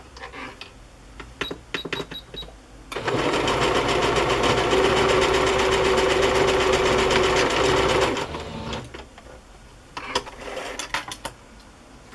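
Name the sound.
sewing machine tacking down lace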